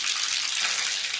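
Mustard seeds hitting hot oil for a tempering for katachi amti, with the gas switched off, give a continuous bright sizzle with a crackling hiss, close and steady, with no talk over it.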